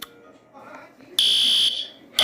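A school fire alarm goes off after being pulled: a loud, steady electronic buzzing tone sounds for about half a second, cuts off, then starts again at the end, following quiet rustling.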